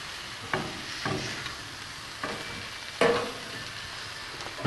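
Breakfast potatoes with peppers and onions sizzle steadily on an Island Grillstone grill, a loud close hiss broken by several scraping tosses about a second apart.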